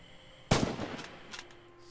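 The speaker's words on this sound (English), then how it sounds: "Practice dialing in the range and fire on the targets downrange." A single loud rifle shot cracks out in the Red Orchestra 2 video game while firing at targets on a range, a sharp blast trailing into a brief echoing decay.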